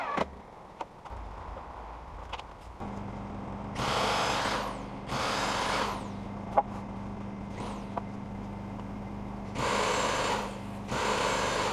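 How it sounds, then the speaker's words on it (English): A power drill bores pilot holes into a woodshed rafter in several short, loud bursts separated by pauses, over a steady low hum. "drilling pilot holes."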